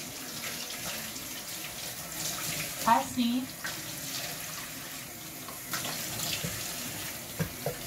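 A bathroom tap runs with warm water while someone washes their face, a steady close hiss of flowing water with a few louder splashes, and a person speaks briefly over it.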